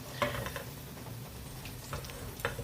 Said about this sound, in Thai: ก็ใช้ตะหลิวคลุกไปคลุกมานะฮะแล้วก็ คั่วไปให้หอมเลยนะครับ